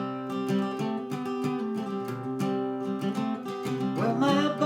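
Guitar verse part of a song, a short run of picked and strummed notes with ringing chords, played alone at moderate loudness.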